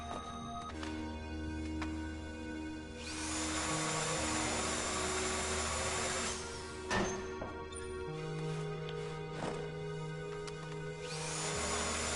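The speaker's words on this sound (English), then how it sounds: "I'm drilling this last wall here." A heist drill in GTA Online grinds steadily through a wall, a droning whine with a low hum underneath that surges louder in two long stretches and then eases back.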